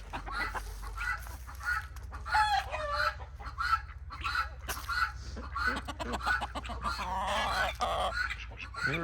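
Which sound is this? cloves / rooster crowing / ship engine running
rooster crowing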